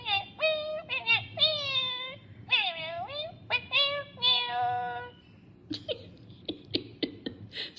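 A ROPET robot pet cat gives a series of synthetic, sing-song meowing calls that rise and fall, clear and close, followed by a few shorter chirps and clicks.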